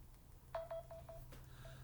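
A phone's button tones sound during muting: a quick series of short beeps, faint and close, over a low steady hum.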